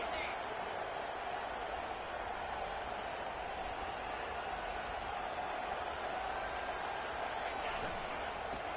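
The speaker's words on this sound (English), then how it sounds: "they'll have to conquer this crowd noise" Steady, dense roar of a large college football stadium crowd, constant and loud throughout with no pauses.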